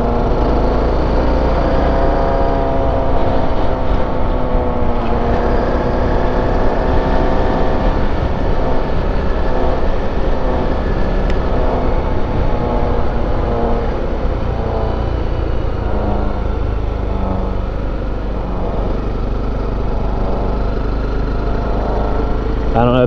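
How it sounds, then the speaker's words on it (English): Steady loud roar of a worn Kenda Trackmaster rear tire and engine on a Honda CRF250L motorcycle riding along a beach road, a continuous drone with wind noise running throughout. "I don't know if you guys can hear my tire"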